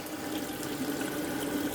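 Kitchen sink tap runs steadily, a continuous close splash of water filling a pot with no pauses and no voices.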